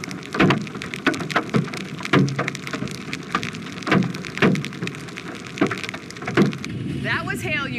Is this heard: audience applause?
no